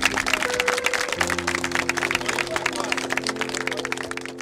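Applause from mourners at a nighttime burial, dense broadband clapping throughout, mixed with steady tonal sounds and voices in the crowd.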